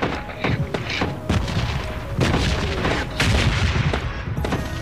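Gunfire in PUBG Lite, a mobile battle royale game, comes as loud, close bursts of rapid shots with heavy thumps, repeating in clusters across the whole stretch.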